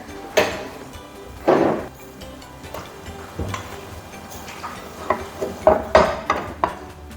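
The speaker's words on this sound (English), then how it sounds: "So immediately you have to put it in the square pan and press it." A spoon or spatula knocks and scrapes against a metal square pan as almond burfi mixture is spread and pressed, giving sporadic taps and short scraping strokes in a quiet kitchen.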